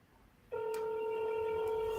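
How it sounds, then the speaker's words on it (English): A phone line opens into a steady, loud dial tone after about half a second of quiet room noise, holding unbroken to the end during a live outbound call. "Dial your phone."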